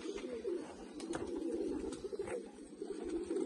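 Low, soft pigeon coos from a large pigeon repeat steadily throughout, close by, with a few faint clicks and rustles in the background.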